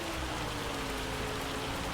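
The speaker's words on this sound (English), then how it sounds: "That rain is just not wanting to give up" Steady heavy rain in the Farming Simulator 25 video game, a dense continuous hiss with no pauses.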